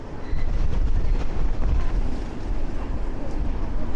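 Strong storm wind batters the Blackpool seafront, a loud continuous roaring rumble buffeting the microphone in gusts with no pauses.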